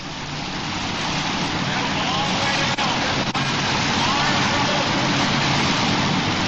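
Five-engine modified dragster pulling tractor roaring at full power at an indoor pull, a dense, loud, continuous engine blast that swells slightly and holds without pause.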